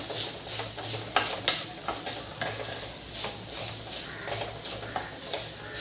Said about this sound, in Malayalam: തേങ്ങ നന്നായി ഒന്ന് വറുത്തെടുക്കാം.